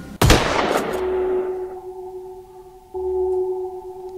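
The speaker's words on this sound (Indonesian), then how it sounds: "Jack akhirnya menembakkan senjatanya" A gunshot effect for a horror narration: one sharp, loud blast, followed by a long, steady electronic ringing tone that fades and then swells again.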